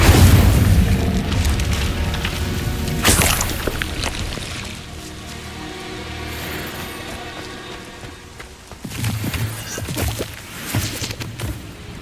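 A fiery Incendio spell blast from Hogwarts Legacy erupts with a booming whoosh, followed by rumbling, crackling magical effects and a second loud burst later, set against a low game soundscape.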